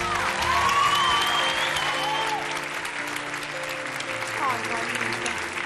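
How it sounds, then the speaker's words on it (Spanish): Studio audience applauding on La Voz Argentina, a TV singing talent show; dense, steady clapping fills the whole stretch, loud at first and easing slightly, with a bit of crowd noise and some talk mixed in. "Un aplauso para María Belén"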